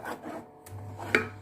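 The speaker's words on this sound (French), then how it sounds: "Maintenant, nous allons mélanger." A creamy mixture is stirred in a bowl, giving short scraping and rubbing strokes with a light knock near the end, close up and brief.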